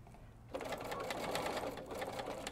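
A sewing machine stitches a seam close to the edge of a heart-shaped mastectomy pillow, running as a steady rapid mechanical patter for about two seconds at moderate loudness, with no talking.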